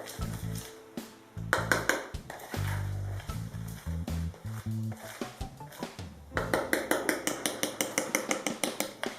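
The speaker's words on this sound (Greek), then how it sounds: "Θα εξακολουθήσουμε να χτυπάμε για λίγη ώρα, να ενωθούν αυτά τα υλικά." Dough ingredients with yeast being beaten and mixed in a bowl for syrup-soaked knot pastries, with repeated clinking of a utensil against the bowl, sometimes fast and rhythmic, close up with no talking.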